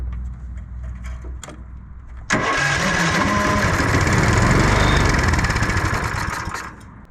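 A small homemade kid's snowmobile engine, fed only with hand-pumped fuel, catches abruptly after faint clicks and runs loud and close with a rough, buzzing two-stroke rattle for several seconds before starting to fade.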